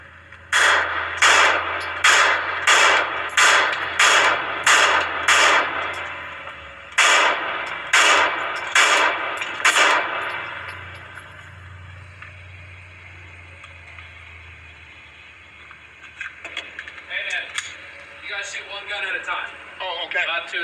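Hi Point .380 and 9mm pistols fire at a gun range in a steady series of about a dozen sharp, loud shots roughly half a second apart, followed by a quiet stretch and then voices talking.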